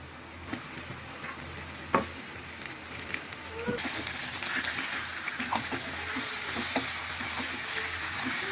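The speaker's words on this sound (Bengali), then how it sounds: "দিয়ে মাংসগুলোকে হালকা একটু ভেজে নেবো" Steady sizzling and crackling of chicken lightly frying in a hot pan for biryani, with occasional clinks of a utensil; the hiss grows slightly fuller partway through.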